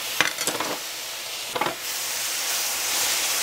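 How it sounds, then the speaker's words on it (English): Onion goes into a very hot cast iron pan and hisses loudly, with a few quick scraping stirs at the start and again midway, then a steady bright sizzle carries on alone. "And put the onion in."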